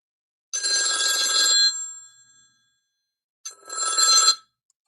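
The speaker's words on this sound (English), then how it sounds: "Fucking phone's gonna go crazy." Telephone bell rings in two clear bursts, a longer ring followed by a pause and a second shorter ring, loud and close with no talking.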